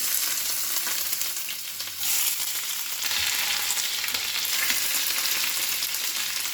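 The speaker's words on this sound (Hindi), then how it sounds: "तेल में पहले हम चॉप्ड अदरक लहसुन को डाल देंगे।" Chopped ginger and garlic sizzle and crackle in hot oil, a steady bright frying hiss close by with occasional stirring noises and no speech.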